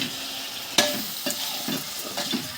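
Lobster and pomfret pieces frying in a pan for a lobster and pomfret fry recipe, a steady loud sizzle with several sharper crackles and stirring scrapes, close up and with no talking.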